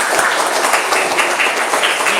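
Steady applause from a classroom group, a dense patter of many hands clapping together for a couple of seconds, with no speech over it.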